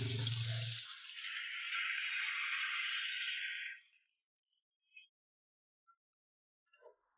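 Running tap water splashes as Shandong sweet potatoes are washed in a kitchen sink, a steady rushing flow that stops after a few seconds, followed by a few faint drips and light knocks.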